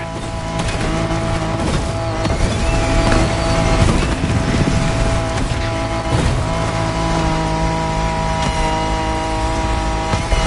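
Japanese truck descending a steep, bumpy slope in The Crew Motorfest racing game, a steady loud engine drone with layered harmonic tones and rumbling over roughly ten seconds, with occasional tire noise and no talking.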